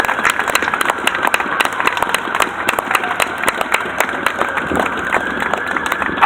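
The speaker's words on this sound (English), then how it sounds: "So if we could give John and Gabriel a round of applause again, that would be absolutely awesome." Outdoor rally crowd gives a loud, steady round of applause with sharp individual claps, close and continuous throughout, with scattered cheers.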